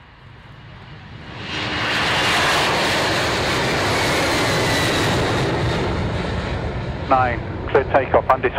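A tanker aircraft takes off on runway 09 at Fairford. The jet roar builds to a loud, sustained rush that holds steady before easing, and brief radio talk breaks in near the end.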